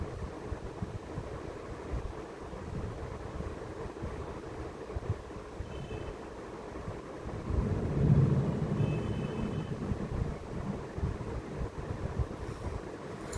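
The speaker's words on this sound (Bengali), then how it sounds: "কিন্তু খুব বেশি বাজ পড়ছে, তো কাঁপছে আমার শরীরটা।" Thunder rumbles through a heavy storm near Kedarnath, a low continuous roar thick with wind and rain noise that swells louder around the middle before settling back.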